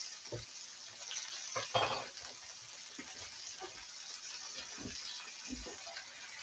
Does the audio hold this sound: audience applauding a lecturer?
no